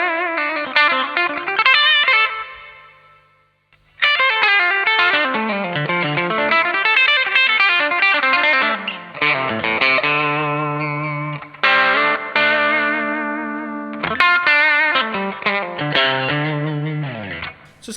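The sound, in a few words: electric guitar with overdrive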